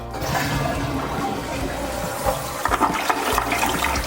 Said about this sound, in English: There is the toilet, which it's a newer toilet. Glacier Bay, let's see how it flushes.